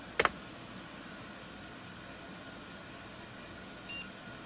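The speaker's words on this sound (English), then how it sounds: "I was fooled by the post beep." A Lenovo 3000 H210 desktop gives a short, sharp POST beep on boot near the start, followed by a steady low fan hum and a faint second tone near the end.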